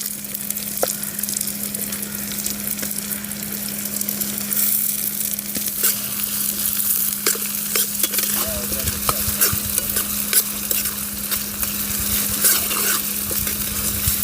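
Chopped onions and green chillies sizzle and are stirred in a pan for fish curry, a steady close frying hiss broken by scraping spoon strokes throughout, with no voices.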